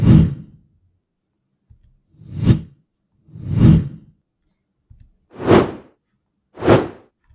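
Five whoosh effects from a video editor's sound library sweep past one after another, each a quick airy swish rising and falling, with short silent gaps between them and no talking.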